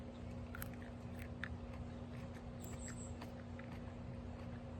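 Someone chews a leaf of bolted rocket arugula from a home garden, producing faint, irregular crunchy bites close to the microphone over a low steady hum.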